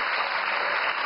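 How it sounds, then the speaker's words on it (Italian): A television studio audience breaks into applause at a political talk show, a dense, even roar of clapping that stays level throughout with no voices. "Apprezzo l'applauso sulla domanda."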